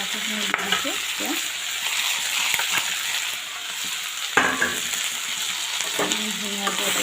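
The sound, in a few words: potatoes and nefafu leaves frying with pork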